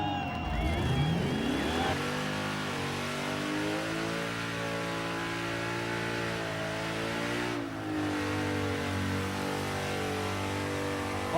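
A car doing a burnout at a Summernats burnout elimination, its engine held hard on the rev limiter in a loud sustained bouncing drone with a rising rev at the start, heard from a crowd-side distance.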